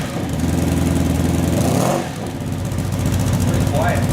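A cafe racer motorcycle fitted with a baffled exhaust runs close by, a steady mid-pitched engine drone that dips briefly before settling back into an even idle, with no voices over it.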